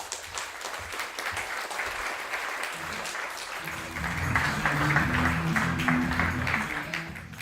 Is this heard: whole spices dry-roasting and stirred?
no